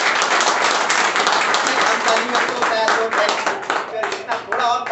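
Audience clapping fills a hall continuously, a dense wash of many hands that thins slightly toward the end, with a voice briefly audible in the mix.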